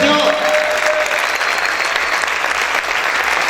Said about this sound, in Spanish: Pueden aplaudir fuerte al Señor.